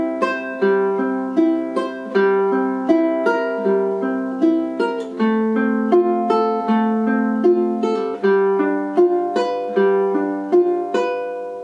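Ukulele fingerpicked through a repeating pattern, two cycles on each chord of a steady progression, bright plucked notes ringing clearly and evenly with no voice over them.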